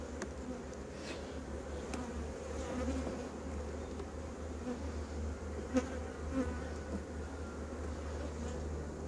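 Honey bees buzz in a dense, continuous drone on a hive frame fitted with fresh comb foundation, close and steady with faint rustling beneath.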